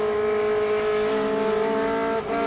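A race car slides sideways through a turn on the SpeedRing track, its engine holding a loud, sustained buzzing drone with a brief dip and rough rise near the end.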